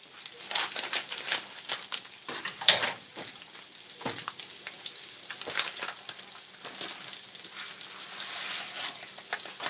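Jambalaya rice mix going into a pot, with soft sizzling, crackling and scattered clinks and rustles, fairly quiet and irregular, and no voices.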